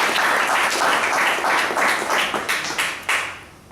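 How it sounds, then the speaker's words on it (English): A Toastmasters club audience claps for its president, a dense round of applause that holds steady, then thins into scattered claps and fades out. "Please give the President a big round of applause."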